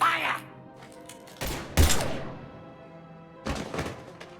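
Combat in the video game Mass Effect 3 opens with a few sharp, loud gunfire bursts separated by pauses, punchy thuds standing out over the game's soundtrack, with voices speaking around them.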